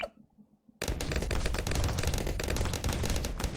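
Twin guns rapid-firing two bullets at a time in the tower defense game Bloons TD 6, a dense, loud, continuous stream of gunfire that bursts in after a near-silent start and runs without talk.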